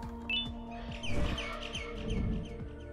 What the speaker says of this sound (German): Ich höre den Vogel.